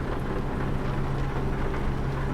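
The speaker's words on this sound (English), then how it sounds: "So, I'm driving in the UK, we get a lot of rain." Steady rain drumming on a truck while driving through the UK in a truck simulator game, a continuous dense hiss over a low engine drone, with no voices.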